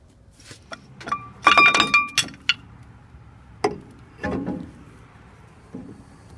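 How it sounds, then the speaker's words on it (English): Brake caliper pulled free from an old truck, dropping off with a cluster of sharp metallic clinks and knocks, followed by a couple of duller thuds, close and fairly loud against a quiet shop. "this pin right here you just pull out and the caliper just falls right off"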